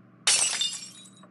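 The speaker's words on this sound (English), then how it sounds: "I just heard a glass breaking in the kitchen." Glass breaking in a kitchen, an animated sound effect: a sudden loud shatter that bursts in and then scatters into fading tinkling fragments, heard alone with no voices.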